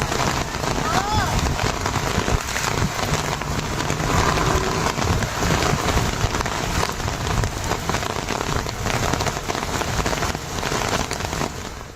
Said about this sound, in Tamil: ஆவடி உள்ளிட்ட பகுதிகளில் கனமழை வெளுத்து வாங்கியதால் சாலைகளில் மழைநீர் தேங்கியது.